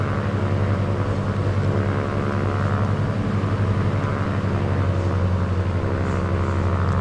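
A Cessna 182 piston engine in a homemade flight simulator, throttled back on approach to Worcester, MA, hums as a steady, loud, even drone with a low rumble underneath, unbroken for the whole stretch and without any talking.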